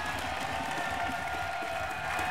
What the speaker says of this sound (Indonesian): Tepuk tangan untuk dewan juri kita malam hari ini.